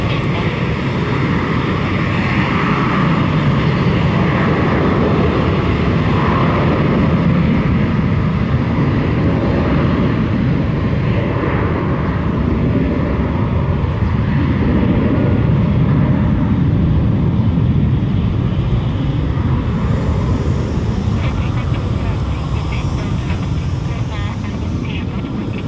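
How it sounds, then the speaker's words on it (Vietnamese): An Airbus A321 airliner on runway 25 left gives off a steady, loud, broadband engine roar that holds throughout, with a hiss rising near the end, and a voice talks over it. "ở ngay đường băng 25 trái chúng ta có một chiếc Airbus A321"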